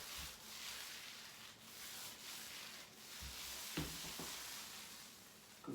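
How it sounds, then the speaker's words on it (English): A paint roller rolls along a wall tight against the ceiling, making a steady, close, soft rubbing swish that continues throughout with a few light knocks and bumps. "bring your roller up in an angle, tight to your ceiling like so."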